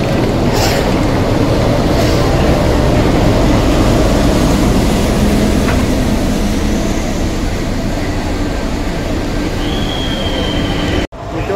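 A diesel locomotive hauls the Howrah–New Delhi Duronto Express into a station platform: a loud, close, continuous rumble with wheel screeches and a thin high squeal near the end.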